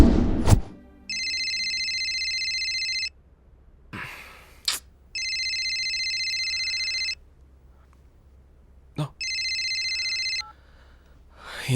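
A telephone rings in three long electronic bursts, each about two seconds, separated by short pauses and a few faint breaths and rustles, close and clear.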